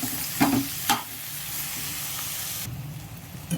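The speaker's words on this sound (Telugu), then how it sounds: "వేసేసి బాగా కలుపుతున్నామండి." A spoon stirs okra with green chili paste, salt and turmeric in a pan, scraping twice near the start over a soft, steady sizzle that continues alone and up close.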